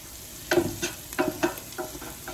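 Garlic and onion sizzle in a pot for red pork pozole, with a steady fry hiss under a few rhythmic scraping stirs of a spoon, close and moderately loud, no voices.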